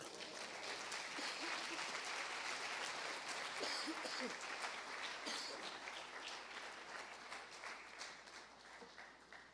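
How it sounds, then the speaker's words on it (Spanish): A church congregation claps steadily, a dense wash of applause that holds for several seconds and then slowly thins toward the end. "den un aplauso al Señor"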